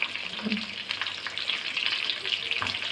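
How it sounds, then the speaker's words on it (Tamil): Beetroot frying in a pan with asafoetida as it is stirred, a dense close sizzle with spoon scrapes and shuffling throughout, no talking. "இது நல்லா கலரி விடுவோம். இது நல்லா வேகிற வரைக்கும் கலரி விடுவோம்."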